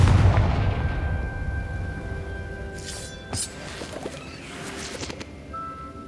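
Confringo spell explosions in Hogwarts Legacy, a few sharp bursts and crackling impacts over a steady background hum and low rumble.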